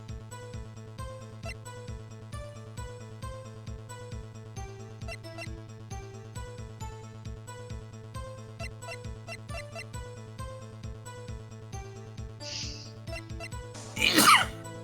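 A single sharp sneeze near the end, loud and close, cutting through a steady looping game music track in a Phoenix Wright Ace Attorney courtroom scene.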